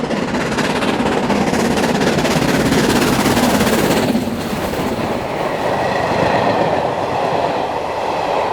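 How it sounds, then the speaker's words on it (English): A Blue Pullman train pulling into Gretna Green station, a loud, close rumble and rattle of wheels on rails that eases off partway through as the train slows, with no talk. "this blue Pullman is pulling in to the current station at Gretna Green"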